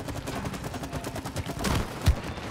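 Rapid bursts of gunfire from the video game It Takes Two crackle in quick succession, building to a sharp, louder shot near the end.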